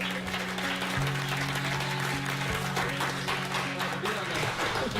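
Applause rings out on the Star Trek Enterprise bridge set, a sustained crowd clapping layered over a steady low hum, with a voice speaking across it.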